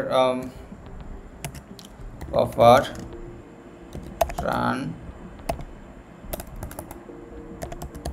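Keys clatter on a computer keyboard as text is typed, scattered quick taps in short runs, with someone talking between and over them.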